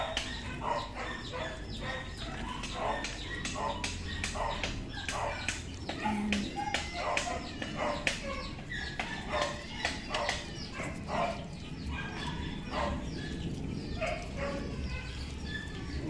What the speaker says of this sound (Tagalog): nagpapakain na si Perna, kaya maingay na yung mga aso.